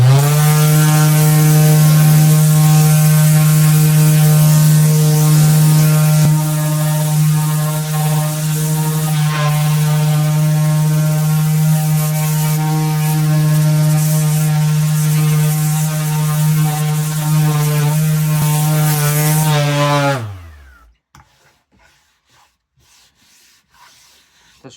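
A MAXXT 150mm orbital sander with 80 grit paper runs steadily at close range, a loud continuous buzzing whir that lasts about twenty seconds before winding down and stopping, leaving near silence.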